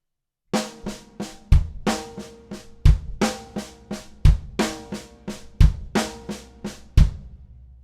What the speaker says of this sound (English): Right, left, left, kick.